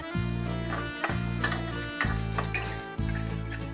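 Oil sizzling in a reused wok while beef and pak choi are prepared, a close, crackling hiss with a steady hum beneath, broken into short bursts roughly once per second.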